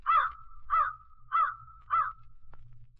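A great black crow caws four times in a steady, evenly spaced rhythm, each harsh call loud and close, with a faint low rumble underneath and a brief click near the end.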